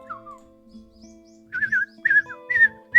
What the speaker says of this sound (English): I hear birds chirping at my window